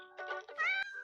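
A cartoon cat meows in a short clip of a cat video shown within an animated episode, making one clear, drawn-out, rising meow that stands alone with no talk over it.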